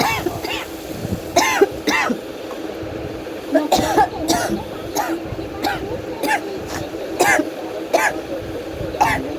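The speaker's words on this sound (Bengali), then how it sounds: "এই সময় না আমার একটু খুব ঝাঁঝে কাশি হয়ে গিয়েছিল আর কি।" Repeated coughing and throat clearing from pungent chili and onion fumes rising off hot oil, a run of short harsh bursts spread across the stretch, close, with some talk.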